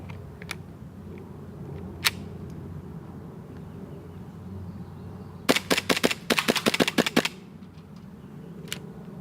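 A homemade airsoft carbine pistol kit fires a rapid magazine dump, a burst of sharp clicking shots in a quick irregular string, loud and close over a steady outdoor background hum.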